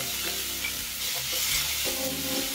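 Sliced peppers hit a hot pan of sautéed moringa leaves and are stirred, a steady close sizzle with scraping stir strokes running throughout.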